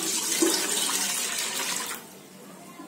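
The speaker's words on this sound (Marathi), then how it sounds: "आता त्याच्यामध्ये आहे ना आपल्याला 1 वाटगा पाणी ओतायचं आहे." One cup of water pours into a cooking pot on a lit gas stove, a steady, close splashing gush lasting about two seconds before it stops abruptly.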